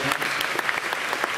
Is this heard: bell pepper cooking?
no